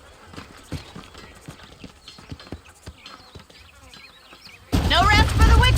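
Horse hooves clip-clop in a steady rhythm in Red Dead Redemption, close and moderately loud, before a louder burst of game sound takes over near the end.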